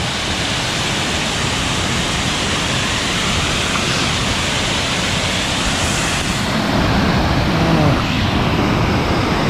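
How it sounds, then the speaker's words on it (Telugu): Clean waterfall in Meghalaya, a steady, loud broadband roar of falling water that fills the whole clip without a break. "Super clean water fall."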